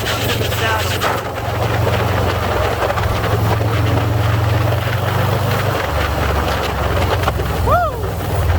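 A 2020 Harley-Davidson Softail Standard custom motorcycle engine rumbles steadily under throttle, its low drone shifting pitch partway through, heavily buffeted by loud wind noise as it rides.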